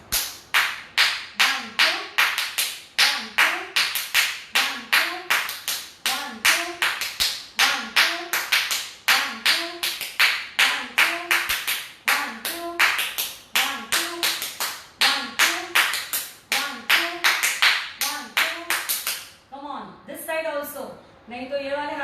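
Finger clapping, four fingers flapped against the open palm, gives a steady, rhythmic run of sharp, close slaps, roughly two to three per second, while a voice chants or speaks along.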